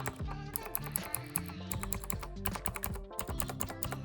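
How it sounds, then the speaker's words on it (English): Mechanical keyboard with Outemu blue clicky switches being typed on, giving a rapid, close stream of sharp clicks with a steady rhythm, heard alone with a faint low background tone. "these ones have the Altemu blue switches sitting underneath them, and if you ask me, that's heaven for those who like that clicky sound when typing"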